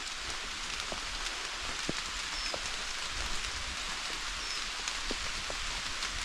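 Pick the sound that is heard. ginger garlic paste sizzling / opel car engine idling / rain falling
rain falling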